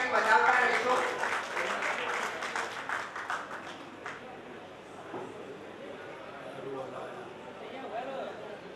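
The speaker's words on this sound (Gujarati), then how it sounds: "આપણે આ બધાને તાળીઓના ગડગડાટથી વધાવતા રહેશું." Applause at a Bharat Vikas Parishad branch ceremony in Deesa, a moderate burst of clapping that fades after about four seconds, followed by quieter room noise and a voice speaking.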